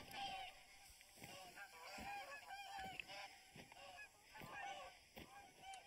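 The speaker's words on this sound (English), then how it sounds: "the birds are just bloody geese being annoying loud little things" Geese honk repeatedly in the video game TheHunter: Call of the Wild, a noisy irregular flock chorus of overlapping calls set against outdoor ambience.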